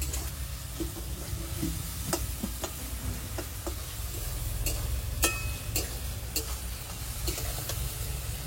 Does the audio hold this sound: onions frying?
yes